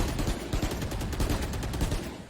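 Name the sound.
gunshot in a video game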